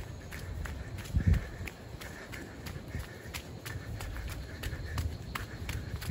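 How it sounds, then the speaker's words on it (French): Footfalls of a morning run on a muddy jungle trail at Punta Mona, Costa Rica, a steady soft rhythm of squelchy steps with one heavier thud, close and moderately quiet under constant outdoor ambience. "c'est le petit footing technique du matin"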